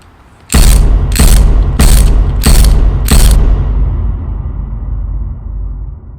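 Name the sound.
ratchet removing Allen bolts from a car gear shifter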